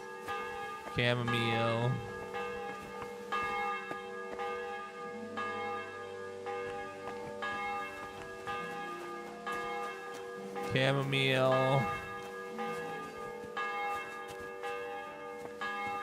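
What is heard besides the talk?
church bell ringing in Kingdom Come Deliverance 2 video game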